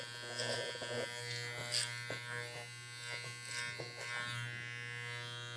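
Electric hair clipper buzzing steadily close by while trimming a man's sideburn into a taper for an old-school pompadour, with brief clicks and scraping strokes as the blade moves through the hair.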